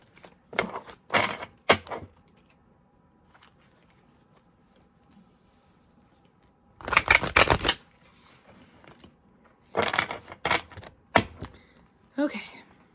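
Oracle cards shuffled by hand in several separate bursts of crisp riffling and flicking, close and loud against a quiet room, with pauses between rounds and a voice speaking at times.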